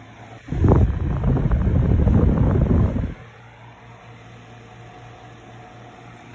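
A 9-inch personal box fan from 2012 switched to medium gives a steady broadband whoosh with a faint low hum for about two and a half seconds, then drops to a quieter low drone.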